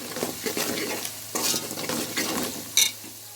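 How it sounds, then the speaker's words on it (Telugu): A spoon stirs crushed garlic paste and turmeric through hot oil in a pan, scraping in uneven strokes over a soft continuous sizzle, close by with no voices. "పేస్ట్ వేసుకోవాలి పసుపు బాగా కలుపుకోవాలి"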